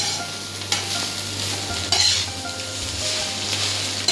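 Vegetables fry in a pan on a gas stove, turned lightly with a utensil on low heat. A steady close sizzle runs throughout, broken by a few scraping stirs and clinks, with no one talking.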